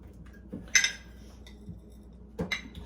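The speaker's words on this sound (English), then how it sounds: "My wonderful daughter is chopping up the potatoes for our roast." A knife chops potatoes in a home kitchen, giving a few sharp clinks and knocks of the blade against the board, spaced irregularly and fairly faint, with no talking.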